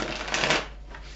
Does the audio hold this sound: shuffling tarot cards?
yes